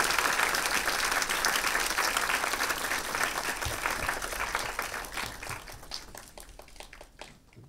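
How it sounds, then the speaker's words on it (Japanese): Sustained audience applause in a hall as a film director and a children's film school representative are welcomed onstage, dense clapping that thins and fades toward the end. "皆さんの拍手でお迎えください"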